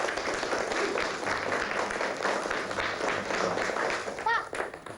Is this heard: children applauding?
yes